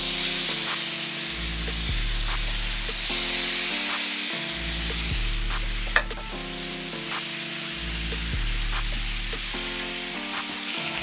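Ribeye steaks sear in a hot pan with a constant sizzling hiss, which runs under a loud repeating low musical backing that nearly covers it.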